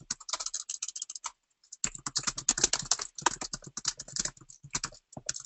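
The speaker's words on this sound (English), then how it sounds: "We're both typing." Rapid typing on a computer keyboard, close and clear, with bursts of dense key clicks broken by a brief pause, then continuing in quick irregular runs without speech.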